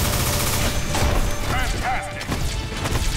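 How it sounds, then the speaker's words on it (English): A proton cannon attack from a Marvel vs Capcom fighting game: a rapid clattering burst of mechanical blasts and crashing impacts, loud and dense, with sweeping tonal effects layered over the barrage. "Proton cannon!"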